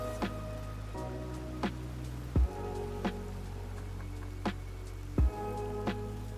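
Soft, steady rainfall in the video game Genshin Impact, a continuous hiss with a few sharper drip-like ticks recurring every second or so, heard alone without talk.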